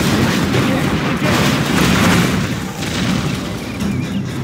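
Booming, rumbling blasts from a toxic grenade in Command & Conquer Generals Zero Hour, a dense, loud burst of explosions and crackling fire sustained for several seconds with no talk.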